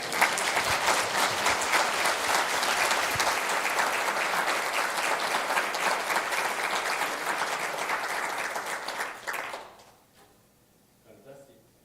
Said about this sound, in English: And give them an applause again, please.